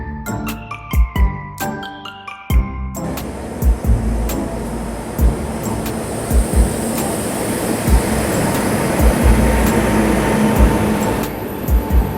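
A passenger train pulls out of Siliguri railway station: a few chimes, then a broad rolling rumble with regular clacks of wheels over rail joints, loud and close.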